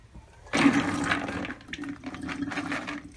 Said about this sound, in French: Je vais égoutter les haricots à nouveau.